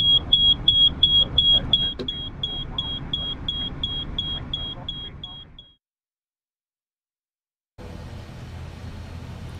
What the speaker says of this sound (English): To mute the buzzer, you can place an object over the loudspeaker,